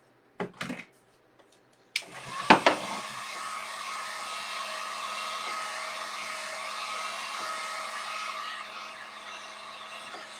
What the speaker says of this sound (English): this is pretty dry, but I'm still going to use my dryer on it.